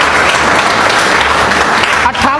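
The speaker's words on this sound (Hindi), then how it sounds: "एक बार जोरदार ताली बजा दीजिए" An audience breaks into loud, dense applause that holds steady throughout, with faint voices mixed in.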